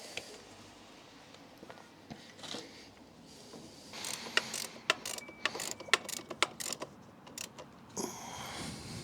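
A ratchet clicks in short bursts while tightening bolts to fit the rear shock on a Honda Blackbird motorcycle, close and fairly faint, the quick ratcheting runs growing busier after a quieter start.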